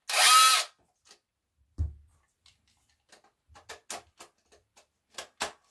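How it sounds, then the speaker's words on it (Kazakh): A cordless power drill with hammer and screwdriver modes gives one short whirring burst, then falls quiet apart from scattered clicks and light taps as the tool is handled nearby. "Балғасы бар екен, шырпабері бұрайды екен, сосын кафельді тесуге арналған екен."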